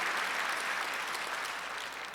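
A church congregation claps together during a Sunday worship service, a continuous, fairly soft wash of many hands that fades slightly toward the end.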